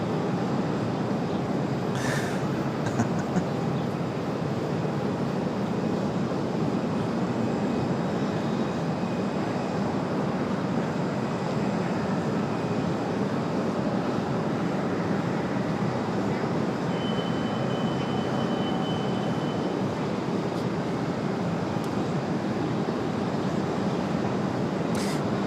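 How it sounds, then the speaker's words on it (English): Aer Lingus airliner on the runway at Raleigh-Durham airport, a broad steady jet roar heard from a distance that holds evenly throughout, with a few faint clicks over it. "So Aer Lingus off the runway"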